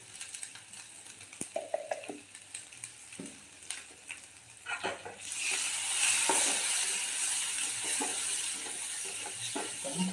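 Besan vadi masala with turmeric and salt sizzles in hot oil, first in light crackles and scattered stirring taps, then swelling into a loud, steady frying hiss halfway through.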